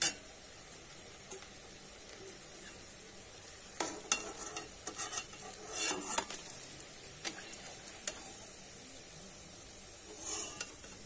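Pea koftas fry in oil in a pan, a quiet steady sizzle punctuated by scattered clinks and scrapes of a utensil, the busiest stretch in the middle.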